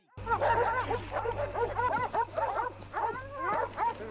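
Several dogs bark, yip and whimper in a rapid, overlapping stream, fairly close, with a steady low hum underneath, in a film scene from Django Unchained.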